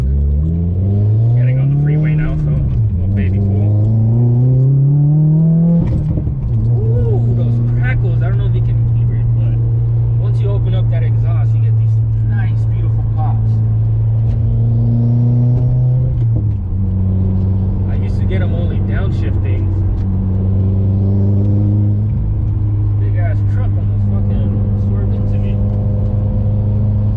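A Subaru WRX with a Stage 2 tune pulls onto a freeway, its engine droning loud and close, rising through the gears with revs climbing and dropping at each shift.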